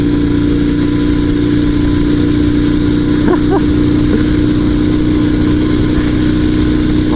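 A Dnepr two-wheel-drive sidecar motorcycle engine running at full throttle in third gear off road, a loud, steady, close drone with a slight rise in pitch partway through.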